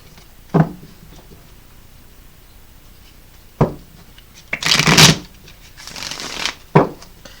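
Crystal Vision tarot cards being shuffled by hand: a few sharp card taps and riffles, then a longer crisp burst of shuffling and a final snap, close and fairly loud in a quiet room.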